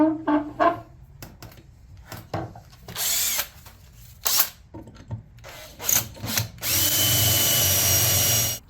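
A power drill bores matching holes into a wooden 1930s end table under repair, loud, close bursts of whirring that start and stop repeatedly, ending in one long sustained run.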